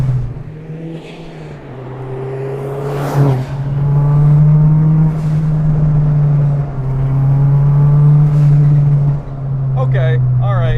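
Turbocharged 2-liter Honda Civic hatchback with a T51R turbo and 96 Integra Type R transmission, its engine droning loud and steady with rising and falling revs under ongoing talk.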